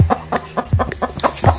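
Chickens cluck inside a chicken coop in a quick run of short, close calls, about half a dozen bursts in steady succession with no talking.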